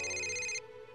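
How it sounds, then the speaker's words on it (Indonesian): A mobile phone ringtone sounds in a library in a cartoon, a bright electronic tone heard close and loud for about half a second before cutting off abruptly, leaving a quiet room tone. "Bunyi ponsel siapa itu?"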